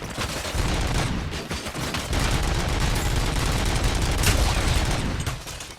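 Gunfire in the video game RoboCop Rogue City: dense rapid bursts of shots and crackling impacts roll continuously for several seconds at loud, close range, with no talking.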